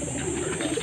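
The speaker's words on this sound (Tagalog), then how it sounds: "Ayan mga kalapatids, ganyan lang palang mag-motivate ng ibon para mabilis umuwi at pumasok sa kulungan" Pigeons in a backyard loft give a soft, low cooing murmur, brief and close, with no talk.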